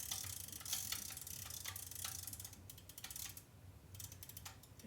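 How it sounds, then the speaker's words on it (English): The film advance crank on a Yashica MAT-124 twin-lens camera is wound by hand, giving faint, closely spaced mechanical clicks and ratcheting ticks in quiet surroundings. "And now we can crank it."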